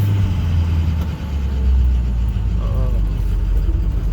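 Heavy diesel rumble of a 2006 Ford F650 with a 6.0L VT365 engine, lacking power under load, rising steadily as it pulls away at quarter throttle, loud and close, with a low, constant drone.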